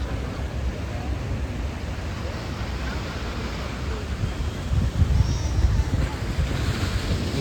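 Sea waves wash steadily against the shore along Marine Drive in Mumbai at night, a constant broadband surf roar mixed with wind noise, swelling slightly louder for a moment near the end, with no voices.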